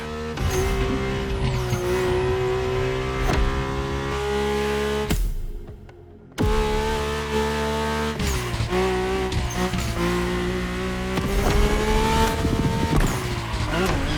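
A Mercedes-AMG One hypercar driven in The Crew Motorfest: a steady, loud engine drone with shifting pitch and tire noise carries on throughout, broken by a brief near-silent gap partway through before the car roars back.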